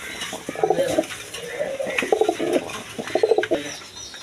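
Several high-flying pigeons coo in throaty, rolling bursts, close by, repeating three or four times with brief pauses between.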